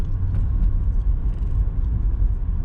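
A BMW E36 compact idles with its M43 four-cylinder after a rough idle fix, a low steady rumble that sags slightly as the clutch is pressed and the revs fall without stalling.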